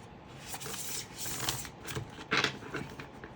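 Tarot cards are shuffled by hand, soft papery riffles and flicks in several quick bursts, close and fairly quiet.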